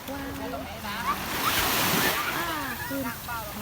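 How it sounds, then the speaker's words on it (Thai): Sea waves wash onto the sandy beach at Cha-am in a steady, moderately loud surf with wind noise on the microphone, while faint voices and brief tonal sounds drift through in the background. "อันนี้น้องอาตอมเล่นน้ำทะเลอยู่นะคะทุกคน"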